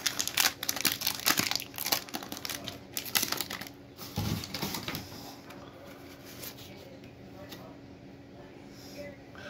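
A 1988 Donruss baseball card wax pack is torn open up close, giving a burst of crinkling, tearing wrapper noises over several seconds before it fades to softer handling.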